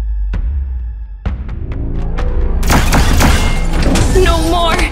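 Bombs go off in a comic-book dub as a sound effect: a few sharp booms and thumps, then a dense, loud run of overlapping blasts and rumble, close and dominant.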